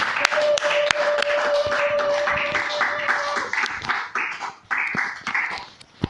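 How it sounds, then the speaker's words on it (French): Congregation applauding during an Easter church service, a dense wash of many hands clapping throughout with a steady sustained tone under the first half, continuing without speech. "nous allons tous applaudir pour la Pâque dans nos vies. Applaudissons pour les rois des rois."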